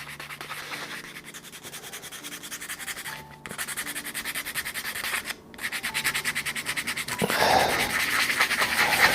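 Sustained abrasive rubbing as the bottom of a resin shaving brush is roughened before gluing a handle into its socket with epoxy, steady strokes with two short pauses and a louder burst near the end.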